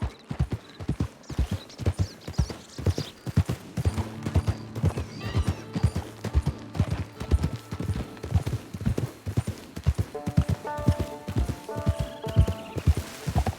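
Horse hooves clip-clop in a brisk, even rhythm in the western video game Red Dead Online, with a neigh or whinny breaking in partway and faint game sounds underneath.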